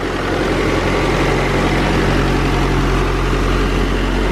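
A car fitted with a new turbo kit idles loudly and close, a continuous low rumbling drone that stays constant in level throughout.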